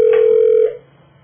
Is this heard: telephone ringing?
yes